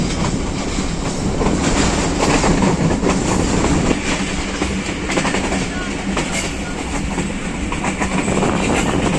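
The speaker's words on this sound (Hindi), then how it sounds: "ओवरलोडेड ट्रेन है, इतवार का दिन है आज।" Overloaded Kohat Express passenger train rolling on rails in Pakistan, a loud continuous rumble with rhythmic wheel clatter and occasional squeal, heard from on board.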